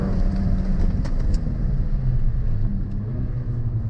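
A Mercedes-AMG A45, CLA45 or GLA45 pulls away from a launch-control start, its engine roaring loud and close as it accelerates steadily, with the automatic gearbox shifting on its own during the run.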